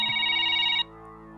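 A telephone rings loud and close in a steady electronic trill, with no talk over it, then cuts off abruptly, leaving a low background hum.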